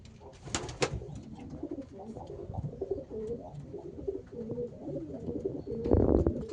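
A male pigeon, sire of a young cock bird, coos in soft repeated murmurs with a couple of sharp clatters early on and a louder rustling burst near the end.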